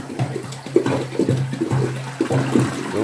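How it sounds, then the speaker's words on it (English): A toilet is flushed with collected rainwater during a power outage, giving a close, fairly loud gurgling swirl of water with uneven sloshing pulses. "There's the flush."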